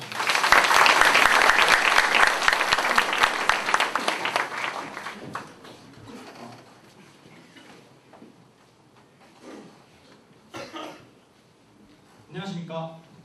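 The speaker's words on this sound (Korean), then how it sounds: "박수로 부르십시오." Audience applause at a school academic paper presentation, a dense burst of clapping for the first five seconds that thins out into scattered claps and faint murmuring.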